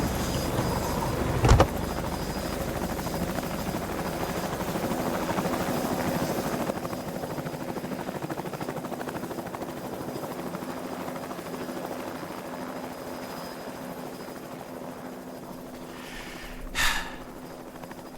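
A helicopter's steady rotor drone and engine hum fill the whole stretch without a break, loud and close, marked by a brief thump early on and a short burst near the end.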